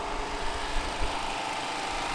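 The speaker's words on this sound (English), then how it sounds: "Apologies for the generator noise behind me." A generator runs steadily in the background at an outdoor motorsport event, a continuous broadband engine drone with no speech over it.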